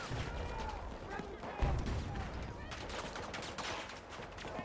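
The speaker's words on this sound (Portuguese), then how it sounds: "Tô vendo só vendo os barulhos de tiro." Dense gunfire from the shooter game Battlefield 2042 rattles as a steady barrage of rapid bursts and distant fire, loud and continuous for the whole stretch.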